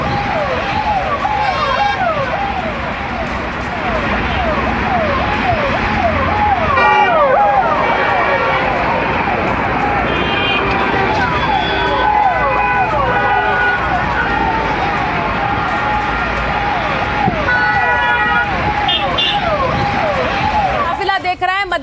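A long line of cars rolls past on a road, engines and tyres droning steadily with passing vehicles blending together, while voices talk over the traffic throughout.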